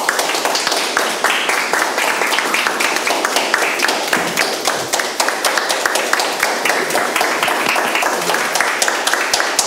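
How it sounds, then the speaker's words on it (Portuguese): A hall audience at a registry talk gives sustained applause, dense and loud, with many hands clapping continuously for the whole stretch. "calorosa salva de palmas."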